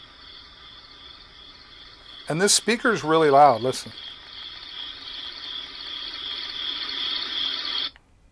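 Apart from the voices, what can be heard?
nighttime crickets sound from a sound machine speaker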